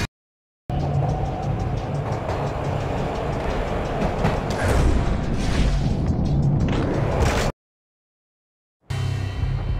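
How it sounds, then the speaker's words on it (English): Train ride in the Max Payne video game on PS2: a steady, loud rumble of rolling railcars with rattling clatter, swelling in the middle, then a sudden cut to silence before the rumble resumes. "This was my second train ride of the night."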